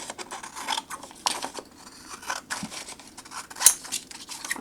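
Scissors cut through paper for a handmade memory book, a series of short crisp snips and rustles spaced irregularly, close and fairly quiet, with no talking.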